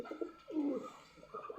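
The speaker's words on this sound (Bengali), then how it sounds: "এই যে কবুতর ডাকতেছে, ডাকটা শুনতেই ভালো লাগে আমার কাছে।" A Giribaz pigeon coos close by, one soft, rolling low call between quieter murmurs, with nothing else around it.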